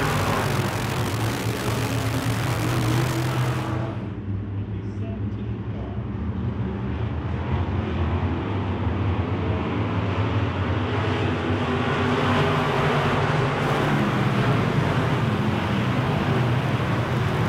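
Wissota Midwest Modified race cars circle a dirt track, a steady loud roar of many engines with broadband rumble throughout, dipping briefly then building again as the pack passes, with wind noise on the microphone.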